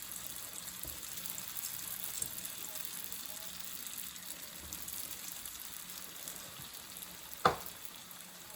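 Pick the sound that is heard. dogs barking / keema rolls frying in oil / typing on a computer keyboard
keema rolls frying in oil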